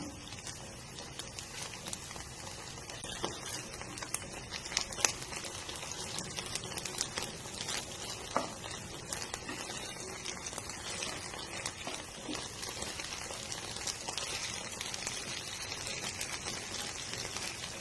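Dragon chicken pieces frying in oil in a covered pan give a steady, dense sizzle and crackle with scattered louder pops, close and continuous throughout.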